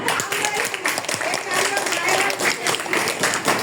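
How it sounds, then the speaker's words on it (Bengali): An audience at a primary education week event in Dhanmondi, Dhaka, clapping together in a dense, continuous patter of many hands, fairly near, with voices speaking over it. "একটা হাততালি দেন"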